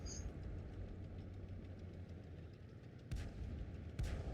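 A tank gun fires HE shells in World of Tanks Blitz: two sharp, booming shots about a second apart cut through a steady, low engine rumble.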